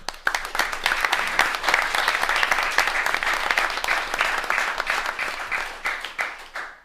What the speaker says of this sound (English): I think we're going to give them one more round of applause.